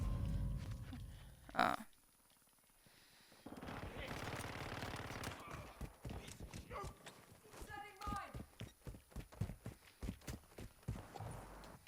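Bursts of gunfire ring out in Call of Duty MWII, with a single sharp shot early, then a spell of near silence, then a long stretch of rapid, uneven shots and clatter. A player talks over the action.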